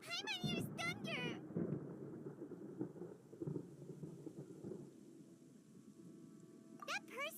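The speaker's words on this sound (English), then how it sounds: "Paimon hears thunder!" Rumbling thunder in the video game Genshin Impact rolls low and steady for several seconds, with game voices and chirpy sound effects overlapping at the start and end.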